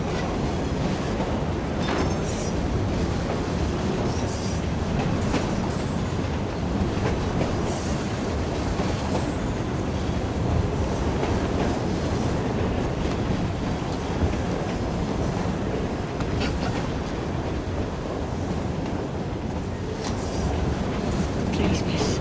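A moving train in the video game Assassin's Creed Syndicate makes a continuous loud rattling rumble with clanks, carrying on steadily throughout, with voices faintly underneath at times.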